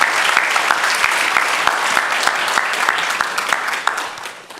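Congregation applauding during a Sunday morning church worship service, steady close clapping with a few sharper claps standing out before it fades away at the end.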